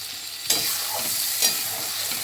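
A spice paste (masala) fries in a pan with a constant bright sizzle, broken by two scraping stirs about a second apart, heard close with no voices.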